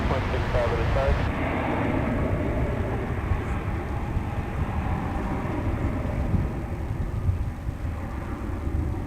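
Avianca airliner at Dallas Fort Worth airport, a steady broad jet engine rumble running throughout, fairly loud and constant, with people talking over it.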